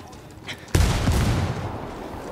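A C4 charge detonates in Ghost Recon Wildlands with a sudden loud blast that rolls into a long rumbling tail, preceded by faint talk.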